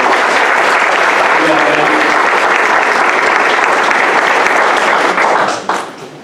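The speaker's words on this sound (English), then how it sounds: "can I give a round of applause for all 5 of these young men?" An audience applauds at a 75th anniversary commemoration of al-Nakba, with dense sustained clapping that carries on loudly before tapering off near the end.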